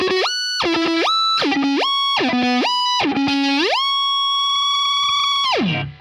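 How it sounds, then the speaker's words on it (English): Electric guitar through a Digitech Whammy pedal set two octaves up for an extreme siren effect: distorted notes swoop up and down repeatedly, then a long high sustained wail slides down at the end, loud and alone. "Number 4 would be an extreme siren. So to do that, you set it to 2 octaves up."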